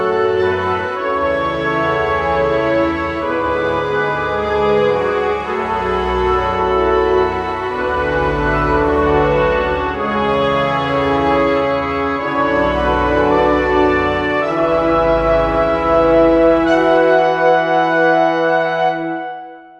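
Layered orchestral melody built from two free orchestra software instruments, a rising line over sustained low strings, played continuously at steady volume for the whole stretch with no talking.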